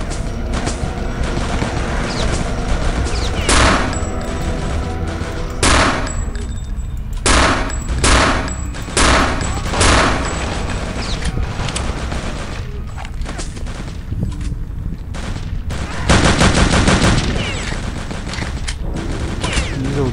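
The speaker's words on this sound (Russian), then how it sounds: "С этого бока стреляет еще." Gunfire in the video game Return to Castle Wolfenstein rings out in repeated loud bursts and single shots, with rapid fusillades and booms spread across the clip at close range.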